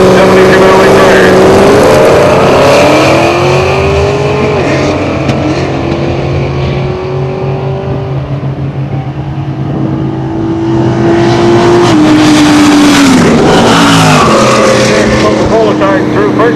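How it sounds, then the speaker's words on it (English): Race cars at an oval track launching: a 1996 Ford Mustang and a 1970 Chevrolet, engines roaring loud and close with rising, revving pitch sweeps across the run, under a public-address announcer talking throughout. "Joe Oliveira is going to go here now, the 96 Mustang, and Hans Zylstra, Frankfurt, the 70 Chevrolet Gray."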